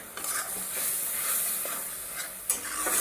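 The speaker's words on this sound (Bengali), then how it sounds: "পেঁয়াজটাকে এর মধ্যে ভালো করে ভেজে নেব" Onion fries in a pan with ginger, green chilli and garlic paste, giving a steady, hissing sizzle. A few soft stirring scrapes rise over it, close and fairly loud, with no talk.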